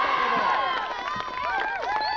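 A crowd at a 1992 under-14 Gaelic football final cheers as the Mayobridge captain receives the cup, a busy mix of excited voices and whistling, with a commentator speaking over it.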